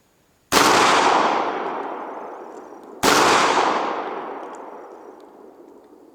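Two sharp, loud gunshots fired at tree branches during tree trimming, spaced a few seconds apart, each ringing off in a long fading echo.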